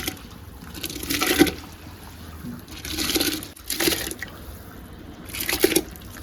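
Water poured into a cooking pot for chicken biryani, arriving in several short splashing bursts separated by pauses, close and moderately loud.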